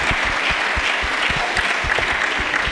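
A church congregation applauds steadily and loudly, a dense continuous clapping filling the space without pause.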